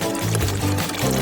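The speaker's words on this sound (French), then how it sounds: "Nous allons remplir des bonbons Skittles avec cette eau." Water pours steadily onto a bowl of Skittles candies, a close, loud continuous splashing pour that lasts about a second with a faint voice murmuring underneath.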